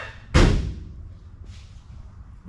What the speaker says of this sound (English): Door shut solid.